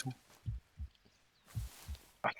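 A morphine-induced heartbeat effect in the military game Arma thumps in paired beats, lub-dub, repeating twice at a slow, steady pace, low and muffled, with faint talk in the background.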